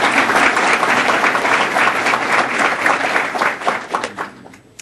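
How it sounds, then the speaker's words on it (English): An audience claps for recognized Ohio banks at an indoor event in Cleveland, a dense, loud burst of applause that holds steady and then fades out at the end. "So round of applause for these Ohio banks."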